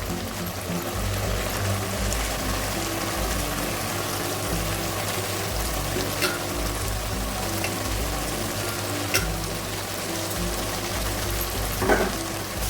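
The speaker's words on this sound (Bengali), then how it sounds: "আগে থেকে যেটা সিদ্ধ করে রেখেছি মোচাটাকে এখন দিয়ে দিই" Boiled banana flower frying in a pan for a vegetarian Gobindobhog rice mocha ghonto, a steady close sizzle and crackle with a low rumbling undertone running throughout, brief sharper spits near the end, no voices.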